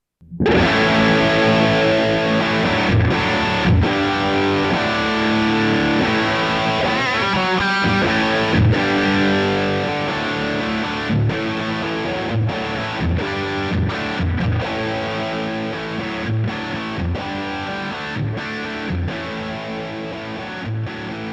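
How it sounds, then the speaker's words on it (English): Distorted electric guitar played through a volume pedal, a sustained loud chordal tone running continuously with repeated strums, its level easing gradually toward the end with no talking. "it's actually just going to control the level of the distortion, like this"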